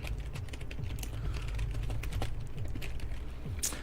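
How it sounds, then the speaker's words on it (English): Fast, steady keystrokes on a computer keyboard during a livestream, a dense stream of close clicks and taps with no speech over them. "it sounds like I'm making it up when I'm typing in the chat"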